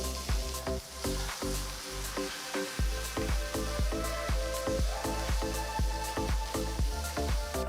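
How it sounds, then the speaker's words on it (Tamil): Steady sizzling in a hot pan with regular scraping strokes of a spoon stirring onion, ginger and green chillies, close and even-paced. "பொடுசா நறுக்கின 1 வெங்காயம் சேர்த்து நல்லா வதக்கலாம்."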